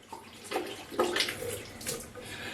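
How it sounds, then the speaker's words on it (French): Water runs and splashes while a brush is rinsed during a product trial, making a close, uneven gushing and spattering sound that swells and eases in short waves. "Je vais rincer la brosse"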